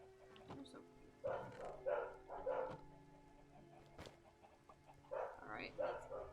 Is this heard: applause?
no